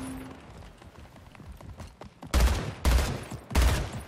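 Three sharp, loud gunshot blasts in the arena shooter Splitgate Arena, spaced roughly half a second apart after a quieter stretch of footsteps and game ambience.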